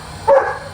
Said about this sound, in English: your neighbor's dog is barking and shitting everywhere